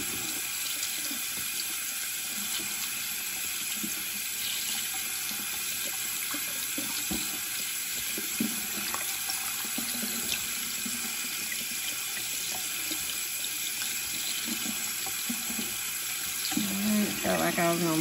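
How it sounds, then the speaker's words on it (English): Steady tap water runs into a sink while hard-boiled eggs are peeled under the stream, a constant close hiss with small clinks and handling sounds near the end. "I try to peel them under the running water too"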